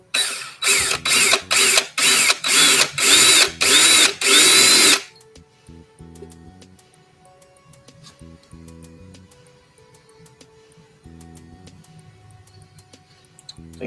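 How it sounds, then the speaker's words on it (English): Power drill bit bumping a part of an HO scale model train kit, eight short, loud, evenly spaced bursts of whirring, then quiet with faint mechanical hum. "Drill bit. I'm just gonna lightly bump it."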